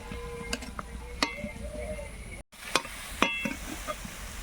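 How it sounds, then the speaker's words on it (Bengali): Mustard gravy for a light prawn and potato curry bubbles softly in a pan, with a few sharp spatula scrapes and taps over a low, steady sizzle. "গ্রেভিটাকে ফুটাবো"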